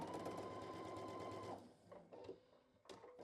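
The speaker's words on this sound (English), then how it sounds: "Let's start sewing." A sewing machine stitches a quilt block in a steady close whirring run for about a second and a half, then stops, leaving faint handling noises and short murmured remarks.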